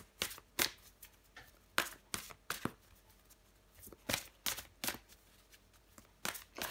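Tarot cards shuffled and drawn by hand: soft, irregular papery flicks and riffles, close and quiet, with no voices.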